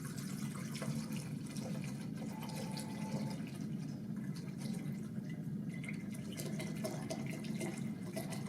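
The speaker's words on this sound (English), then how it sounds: "now I'm going to fill the beaker with rubbing alcohol" Rubbing alcohol at 70% concentration pours in a quiet, steady stream into a beaker, a faint continuous liquid trickle heard close with no talk.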